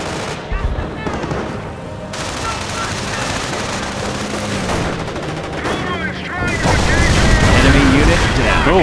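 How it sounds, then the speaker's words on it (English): A bombing run in the Company of Heroes video game, with rattling gunfire and bursts of explosions over busy battle noise that swells louder toward the end, a voice speaking briefly. "Bombing run is now inbound."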